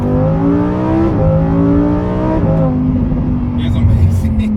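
A Lamborghini Huracan EVO with all-wheel drive revs hard from inside the cabin, its engine note climbing loudly through two quick upshifts before holding a steady roar.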